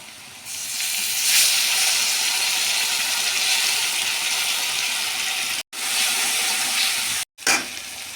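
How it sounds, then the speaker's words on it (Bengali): Garlic dropped into oil with half-fried onions for a chicken curry sets off a loud, steady sizzle close up, a hissing roar that runs unbroken apart from two brief cuts. "এবার পেঁয়াজটা আধা ভাজা হয়ে গেছে, এবার আমি রসুনটা ছেড়ে দেব"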